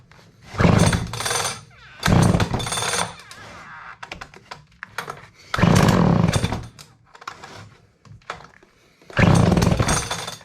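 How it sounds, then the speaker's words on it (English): Dolmar 112 chainsaw bought at a garage sale, pulled over and over on its recoil starter: four loud bursts of rough, sputtering engine noise cut off by short pauses, close by and with no voices. "We're going to give it another pull and see if she turns over."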